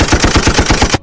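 Rapid gunfire from the action film Monster Hunt, a loud, dense machine-gun burst of about ten evenly spaced shots that cuts off abruptly at the end.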